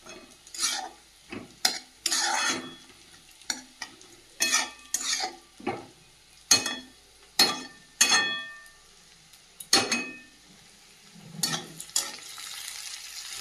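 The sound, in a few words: mashing boiled potatoes in a pan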